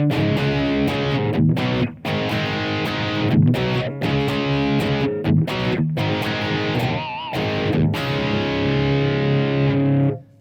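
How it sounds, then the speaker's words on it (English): Electric guitar through a Blackstar ID:Core 20 V3 amplifier in crunch mode with modulation and reverb, playing loud, sustained distorted chords and riffs with brief gaps, ringing out at the end. "so this is the crunch mode"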